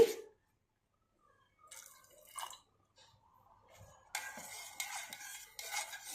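A spoon stirs and scrapes in a pot of water with jaggery and salt, soft clinks and sloshing, quiet at first then steadier and louder toward the end.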